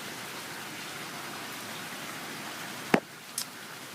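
Steady rain falls during extremely strong winds, a fairly faint, even hiss throughout, broken near the end by a couple of brief sharp knocks.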